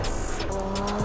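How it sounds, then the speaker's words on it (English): A Volkswagen Golf GTI Mk7 engine in a video game revs loudly and continuously, with a brief squeal of tires near the end. "Listen to that engine."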